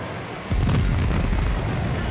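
Torpedo explosion aboard the 10,000-ton warship USS Indianapolis: a sudden deep, loud blast after a brief quieter lead-in, followed by a sustained roaring rumble.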